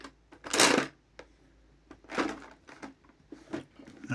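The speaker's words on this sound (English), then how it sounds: "That noise you hear is me going through my pencils." Bursts of wooden clattering and rattling as pencils are shuffled around in a drawer, three main rummaging bouts with quieter clicks between, close by.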